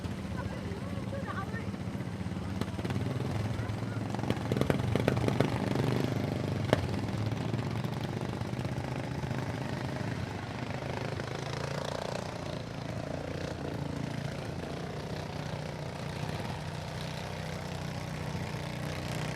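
Small lawn tractor engines run steadily at an outdoor show on a cool, dry autumn day, a continuous low mechanical drone with some louder bursts early on, while people talk nearby.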